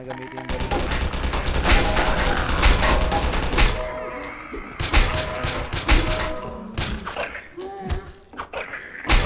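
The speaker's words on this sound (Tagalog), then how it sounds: "kailangan ko na gamitin yung baril" Dense, rapid gunfire in a Garry's Mod horror game, bursts of fusillade and machine-gun fire with thuds, loud and continuous across the clip, with players talking over it.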